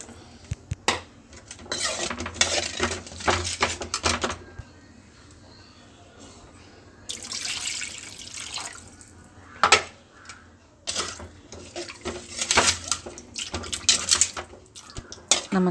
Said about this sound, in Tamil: மிச்சம் இருக்கிற புளி தண்ணியை நம்ம வந்து ரசத்துக்கு ஆட் பண்ணிக்கலாம்.